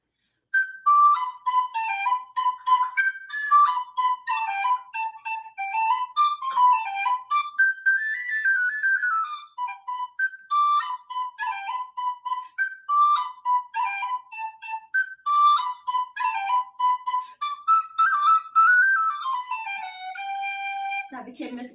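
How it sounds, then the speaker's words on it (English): A tin whistle plays the jig The White Cockade, a lively, continuous melody of quick ornamented notes, solo and close, with no voices. "this piece that I shall play is The White Cockade. So I shall start it upon the whistle"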